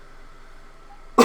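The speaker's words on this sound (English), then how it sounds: "sorry, I didn't mean to cough." A single sharp cough bursts out close and loud at the very end, after a second of quiet room tone.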